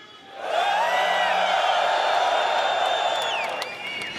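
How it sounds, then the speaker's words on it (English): A large convention crowd in Hall A at CitizenCon 2954 screams and cheers together in a sustained roar of voices with whoops and whistles that swells in and holds for several seconds. "If you're in Hall A, let me hear you scream."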